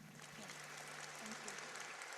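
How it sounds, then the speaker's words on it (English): Audience applause at an event on 25 years of progress in Africa, a steady wash of clapping that holds evenly for the whole stretch at a fairly soft, distant level. "Another round of applause, please."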